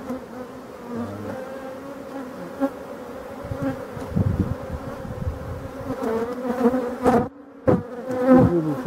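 A large honey bee colony from a swarm buzzes steadily during a close hive inspection in May, a dense droning hum with brief handling knocks and rustles near the end.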